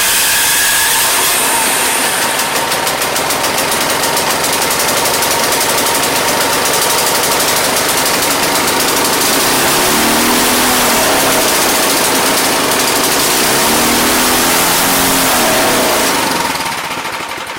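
A Troy-Bilt 2620 snow blower engine, spitting fuel from a faulty carburetor, runs loud and steady at a fast, high idle, rattling continuously before beginning to fade as it dies at the end.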